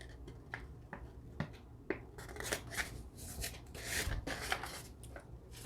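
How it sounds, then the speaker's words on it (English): Paper crinkles and rustles as a small paper bag is folded by hand, with a few sharp creasing snaps and soft rubbing sounds at close range and no talking. "And then just fold that over."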